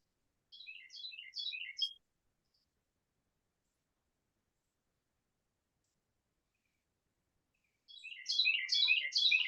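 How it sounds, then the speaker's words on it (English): Robins chirp outdoors in two quick bursts of bright, rapid tweets, the first fairly faint and the second louder and fuller, separated by several seconds of silence. "He says they're robins."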